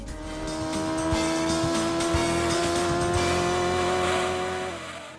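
Racing cars in the PlayStation game Gran Turismo 2, a sustained engine whine holding a steady pitch under a rumbling low end, with brief tire squeals, fading out near the end.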